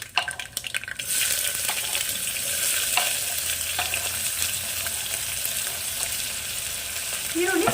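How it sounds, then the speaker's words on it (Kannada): Chopped onions fry in seasoning oil for a bottle gourd sabji, giving a steady, loud sizzle that starts after a second and carries on alone with faint clinks of stirring. "ಸ್ವಲ್ಪ ಚೆನ್ನಾಗಿ ಫ್ರೈ ಮಾಡ್ಕೋಬೇಕಾಗತ್ತೆ"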